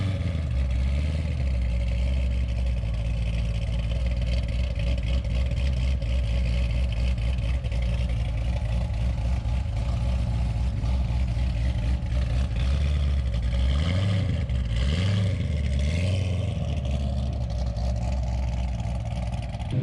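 A fully built engine in a 2002 Mustang runs loud and steady at a dyno session before a shakedown run, holding a deep sustained drone with a few brief revs rising and falling near the end.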